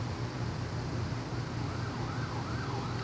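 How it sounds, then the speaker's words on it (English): An ambulance siren in The Last of Us Part 1 wails steadily over a low engine rumble, its pitch sweeping up and down continuously, fairly close and loud. "Here's the ambulance."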